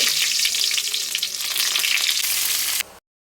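Mustard seeds and curry leaves frying in hot oil for a chicken thoran, a loud, dense crackling sizzle close up that cuts off abruptly near the end.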